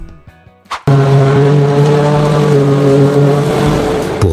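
A single-row carrot harvester runs steadily, close and loud, its engine drone holding a constant tone after a few brief knocks at the start.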